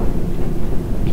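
A London Underground train in a simulator video game rumbles steadily, a brief close low rolling drone with no talking.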